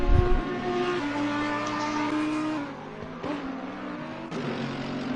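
Audi race car engine howling around the Hungaroring during NXTGEN qualifying, a sustained loud drone with shifting pitch as the car passes, dropping off briefly before rising again.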